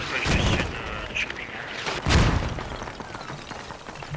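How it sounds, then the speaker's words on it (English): Mortar rounds landing in a military shooter on a large outdoor map, with two heavy thumping blasts a couple of seconds apart fading into distant rumble and ambient battlefield noise. "Hope you guys now going in with the mortars."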